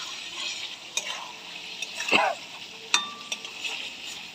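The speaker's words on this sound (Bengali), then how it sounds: "এরপরে আলু দিয়ে মশলাটাকে কষিয়ে নেব।" A spoon scrapes through potatoes and masala frying in a pan, with soft sizzling underneath and a few clinks against the metal, close by and fairly quiet, no talking.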